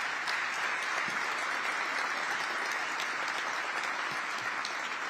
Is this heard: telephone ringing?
no